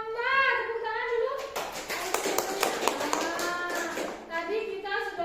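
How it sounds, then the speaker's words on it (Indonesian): Schoolchildren clap their hands in a classroom, a run of sharp, fairly close claps in a quick patterned rhythm, with a voice speaking before and after. "Tepuk tangan dulu."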